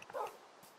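Dog barking in the Minecraft video game, a single short, soft bark-like yip near the start, then quiet, with no talking.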